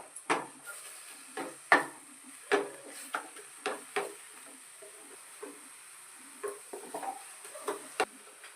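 A mixture of chopped tomato and grated paneer is stirred and fried in a pan over a raised flame. A spoon gives scattered, close scrapes and knocks, with a faint sizzle between them.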